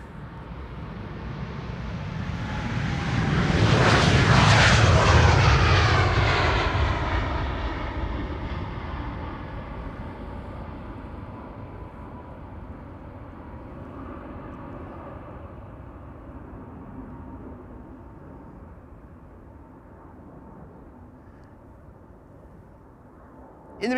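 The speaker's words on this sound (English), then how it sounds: "This is KLM flight 751 to Quito, capital of Ecuador, 7879 Dreamliner" A KLM Boeing 787-9 Dreamliner jet airliner roars past at an airport, building to a loud peak within seconds, then its engine noise fades slowly into a long, distant rumble.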